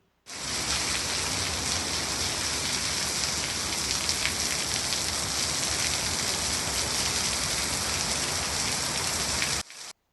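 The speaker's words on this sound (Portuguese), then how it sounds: "a chuva chegou depois de 40 dias. Imagine a felicidade das pessoas de ouvindo esse som maravilhoso." Steady rain falls in Rio Grande do Sul after forty dry days, a dense, continuous patter that holds loud and even for nearly ten seconds with no voices.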